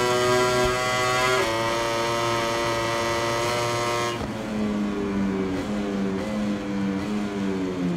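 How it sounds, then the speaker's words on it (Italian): A Ducati MotoGP bike at full throttle at Mugello in the MotoGP 21 racing game, its engine a loud, continuous high-pitched howl that steps down in pitch with a gear change midway, with no talking. "Adesso motore Ducati al massimo."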